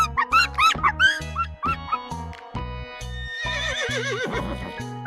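A zebra call presented as one of a series of animal sounds: a run of harsh, rhythmic barking brays and whinnies, loud and close, with repeated pulses, rising into a longer squealing, wavering call toward the end.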